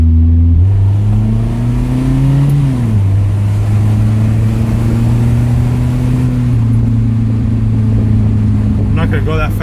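A Datsun 200SX S110 with a three-speed automatic accelerates, its engine note rising steadily, dropping at a gear change, then climbing and settling again under loud, continuous road and wind noise close by.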